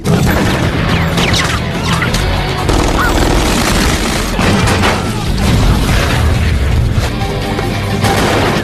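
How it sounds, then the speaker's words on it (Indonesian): A film shootout fills the scene with gunfire and explosions. Loud, dense booms, crashes and shots pile up continuously with hardly a pause, forming a chaotic, heavily layered battle soundtrack. "hingga baku tembak pun tidak terelakkan lagi"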